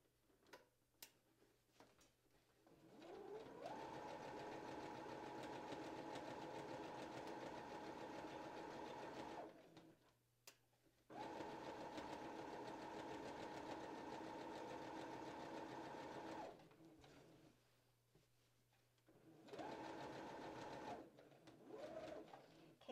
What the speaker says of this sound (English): you're gonna sew from the very beginning all the way to where you get to that pocket